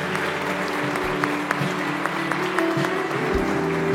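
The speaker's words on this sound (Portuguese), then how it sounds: "Dê um aplauso ao Senhor." Church congregation applauds during a worship service, a dense, sustained round of clapping from a crowd, with sustained tones, likely music, running underneath.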